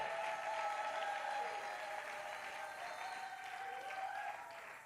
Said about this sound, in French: Acclamons encore le Seigneur Dieu parce qu'il est bon